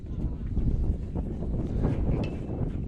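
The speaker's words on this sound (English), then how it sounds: "Big gust of wind there." A big gust of wind blows at a high school baseball field, a loud, steady rush of broadband roar and microphone buffeting lasting about three seconds, close and continuous.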